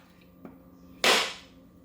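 A faint tap followed by one loud, sharp crack close by, decaying quickly into quiet.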